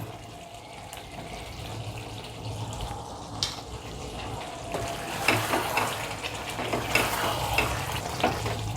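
A spoon stirs garam masala and ghee through simmering chicken rezala in a pan, with steady sizzling and scraping that grows louder and more agitated midway, with no talking.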